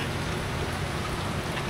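Steady rain falls during a stormy fishing trip, a dense continuous hiss of drops with no break, close and fairly loud, with no voices.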